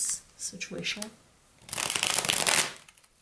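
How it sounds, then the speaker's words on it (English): Tarot cards are shuffled in a quick, dense riffling burst lasting about a second, close and crisp, after a brief spoken remark. "Let me shuffle this one more time."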